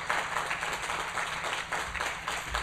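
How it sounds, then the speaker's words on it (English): Brief, fairly faint applause from an audience at a film screening event, a soft, even patter of clapping lasting under three seconds. "if we could get a round of applause for them"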